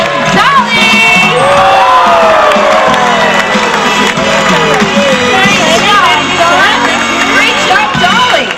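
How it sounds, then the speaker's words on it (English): A crowd at a dolphin show cheers, whoops and shouts loudly and continuously, with children's voices mixed into the noise. "Okay, ladies and gentlemen, let's cheer on."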